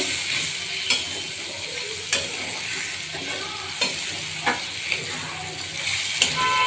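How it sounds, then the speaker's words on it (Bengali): Spice masala for a prawn curry hisses in a pan after water is added, a loud, constant sizzle punctuated by regular scraping stirs and occasional spatula taps on the pan. "মশলাটা ভালো করে কষাতে হবে"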